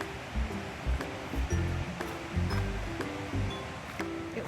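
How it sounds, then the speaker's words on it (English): Kinloch Falls in William Bankhead National Forest, Alabama, heard from the start of the trail: a steady, distant wash of rushing water under irregular low thumps and rustles, with no voices. "we can hear the water from here"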